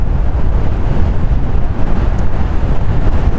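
Wind buffets the microphone in a loud, continuous low roar while someone rides a Monster Pro electric unicycle outdoors, with almost nothing else audible over the gusting.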